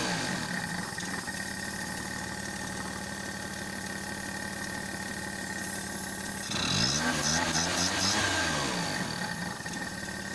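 A Maruti 800 car engine with a carburettor idles at low rpm, a steady close droning rumble throughout that swells slightly louder and rougher partway through as the rpm shifts.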